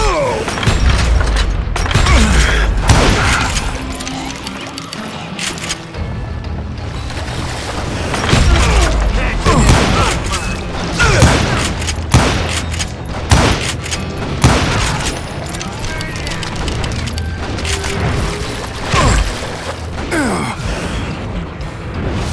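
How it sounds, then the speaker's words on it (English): Bursts of gunfire from a Wild West shootout in the video game Call of Juarez Gunslinger. Volleys rain down from above as loud, repeated cracks and booms over about twenty seconds, with overlapping shots and brief lulls between them. "a fusillade of bullets come raining down from on high"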